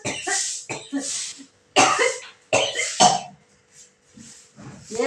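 A woman coughs repeatedly in an eerie ghost-sighting recording, several sharp, fairly loud coughs in irregular bursts with short pauses between, heard alone without talk.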